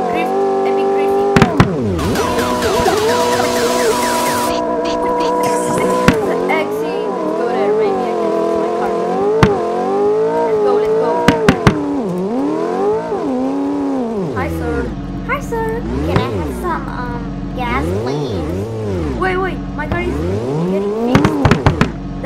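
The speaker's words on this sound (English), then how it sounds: "Oh, drift, epic drifting." A car drifts in the Roblox highway game: loud engine revs rise and fall with squealing tires and sharp bangs, while a person talks over it.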